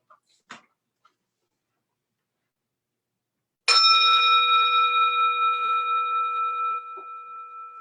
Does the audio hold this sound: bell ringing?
yes